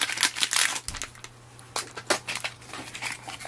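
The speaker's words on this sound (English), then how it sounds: "Now we open the ink cartridge from the packaging." Stiff plastic packaging for an HP ink cartridge crinkles and crackles as it is opened up close, in bursts of rustling with brief pauses between.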